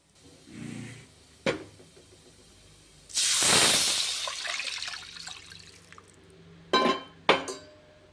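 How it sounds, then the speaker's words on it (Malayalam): A glass of water poured into a Kottayam-style fish curry cooking on the stove bursts into a loud hissing sizzle that slowly fades, framed by a few sharp utensil clinks before and after. "ഒരു ഗ്ലാസ് വെള്ളം ഇതിലോട്ട് ഒഴിച്ചു കൊടുക്കണം."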